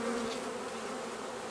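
Dense, steady buzzing of many honeybees on a frame from a feral hive taken from a hollow, close and continuous.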